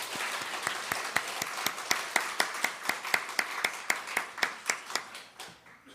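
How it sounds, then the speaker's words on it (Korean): A church congregation at a Sunday worship service claps in welcome, a steady room-filling applause with distinct rhythmic beats that grows more unified before tapering off at the end. "우리 환영의 박수 한번 칩시다"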